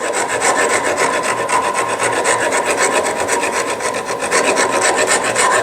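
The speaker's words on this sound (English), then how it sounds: "start with an aggressive tool like a rasp and smooth out this transition here" A coarse rasp files an all-rosewood guitar body, smoothing a transition with a steady, loud, continuous scraping stroke after stroke, close up and alone.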